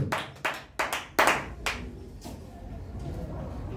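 A church congregation claps for Jesus in a few sharp, loud bursts of hand claps that fade into softer, scattered clapping and room murmur.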